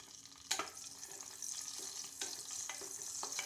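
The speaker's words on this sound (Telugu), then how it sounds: "నేను ఇప్పుడు గ్రీన్ చిల్లీ వేస్తున్నాను" Green chillies, cloves and bay leaf sizzling in hot oil in a pan for gutti vankaya curry, a steady close frying hiss broken by a few sharp crackles and spoon stirs, no voices.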